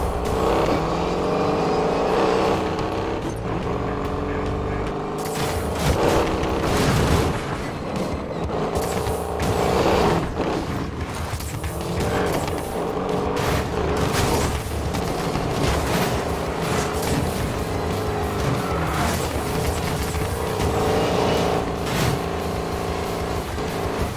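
Race cars in Need for Speed Payback roar close by with revving, shifting engines and passing whooshes, mixed with booming impacts and a dense music bed, loud and continuous for over twenty seconds.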